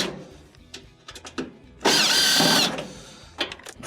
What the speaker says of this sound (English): Switch over to our Phillips. We will pull these 2 screws out as far as they can go.